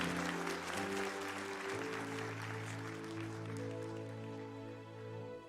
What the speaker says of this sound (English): Can we celebrate the graduates today with a great big hand clap?